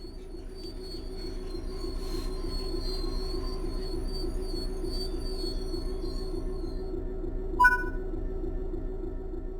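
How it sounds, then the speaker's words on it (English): A train braking to a full stop in Train Sim World 3, steady low rumble of wheels on rails with thin high squeals held throughout and a sharp brief squeal near the end. "Bring this train to a complete stop by holding the brake control in the apply state"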